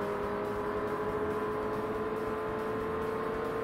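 A race car engine in Forza Motorsport holds a steady high rev under power, a constant whirring drone with a sustained tonal whine and no talk.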